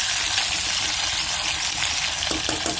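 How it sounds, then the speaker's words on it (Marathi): Brinjal pieces frying in hot oil, a loud, steady crackling sizzle with a few stirring scrapes near the end, no voices. "त्याच्यामध्ये वांगे टाकून आपण मस्त तेलात असं भाजून घ्यायचं"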